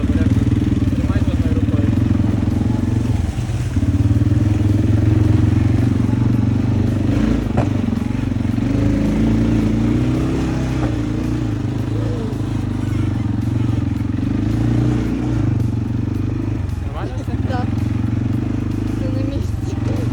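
A quad bike (ATV) engine revving on a mountain road: a loud, close, continuous motor drone with rough rattling and throttle swells throughout, and a person talking over it.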